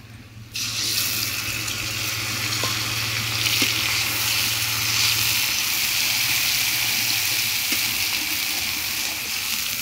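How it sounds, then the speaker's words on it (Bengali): Cumin, ginger, garlic and chili pastes dropped into a pan of lightly fried meat on a clay stove: a sudden loud sizzle that stays steady and close, with stirring clicks and no talk. "আমি দিয়ে দিব এখানে জিরা বাটা, আদা বাটা, রসুন বাটা এবং মরিচ বাটা"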